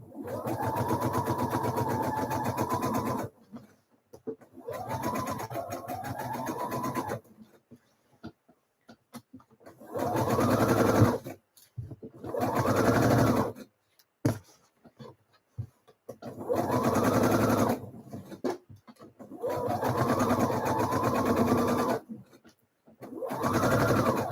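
A sewing machine runs a line of stay stitching around the neck edge of a blouse, in repeated bursts of steady whirring of one to two seconds, separated by short pauses.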